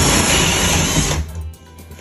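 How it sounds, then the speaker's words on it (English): A 4-inch hole saw cuts an opening in a bedroom ceiling with a loud, steady whining grind close by, then spins down and stops about halfway through. "now I'm gonna cut them out with my 4-inch hole saw cutter"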